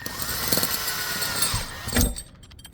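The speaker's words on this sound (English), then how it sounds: "I can just take a 3/16 drill bit. We're just going to drill through the flange of the vent." A power drill fitted with a 3/16 bit bores through the flange of a Dometic Ultra-Breeze RV roof vent, a close whirring whine that rises and falls in pitch before cutting off abruptly.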